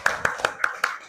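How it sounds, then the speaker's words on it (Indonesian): A classroom of pupils claps in five sharp, evenly spaced bursts, a rhythmic patterned clap that is loud and close, with faint voices underneath. "tepuk tangan lagi"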